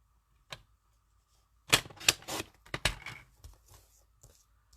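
Paper trimmer cutting cardstock during card stamping: a single click, then a quick cluster of sharp slicing and clacking strokes followed by a few fainter taps, close and clear in an otherwise quiet room.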